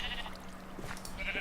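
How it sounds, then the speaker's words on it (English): Sheep bleats in the Evil Genius crafting game, a baby sheep among them, sounding as short wavering cries over a steady hum of game background noise, with no talking. "Oh, it's a baby sheep! It's a baby sheep!"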